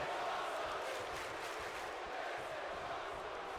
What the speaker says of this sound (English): This crowd chanting, "This is awesome."